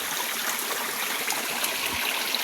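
A small stream of water flows and trickles over stones, a steady close rushing babble without pause and with no voices.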